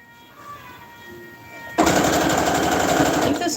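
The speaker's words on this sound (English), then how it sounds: "We're sewing another leg." Sewing machine stitching a doll or plush leg indoors, starting abruptly midway and running loud and steady with a rapid mechanical chatter to the end, after a quieter stretch of room hum.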